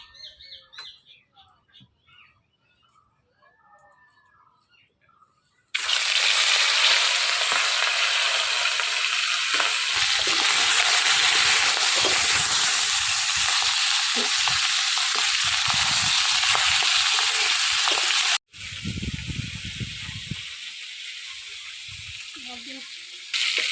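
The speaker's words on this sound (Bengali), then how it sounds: "মাছের মাথা ভাজা হয়ে গেছে, কি সুন্দর করে ভাজছি।" A katla fish head fries in hot oil in a wok. After a few quiet seconds with faint background sounds, a loud, continuous hiss and crackle bursts in, cuts out briefly near the end, then resumes.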